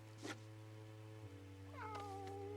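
A cat meows once with a rising, wavering cry over a steady low hum, faint and a little distant.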